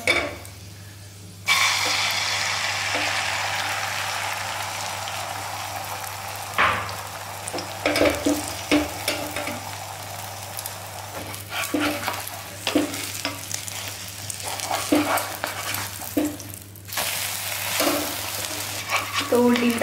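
An omelette frying and being stirred in hot oil, a steady loud sizzle with scraping stirs and occasional clinks of utensils against the pan, continuing almost the whole time without speech.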